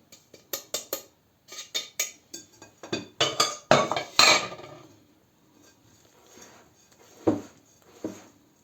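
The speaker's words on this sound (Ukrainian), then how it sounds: "Так, е, частинками розділю, розмішуємо." A utensil stirs dorayaki batter of egg and sugar in a bowl, making a run of quick rhythmic clinks and scrapes against the side that build louder, pause, then return as a few isolated taps, close up.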